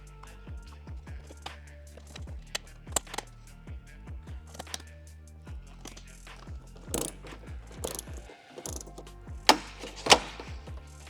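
A ratchet wrench tightens bolts on a Body Armor Hiline front winch bumper during a 4Runner install, with rapid repeated pawl clicks in bursts and occasional clanks of metal parts, close up with no talking.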